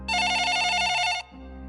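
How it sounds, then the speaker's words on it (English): A desk telephone rings in one long, loud, steady electronic trill that stops abruptly, followed by a low hum in a quiet room. "Suddenly, the phone on the desk rang."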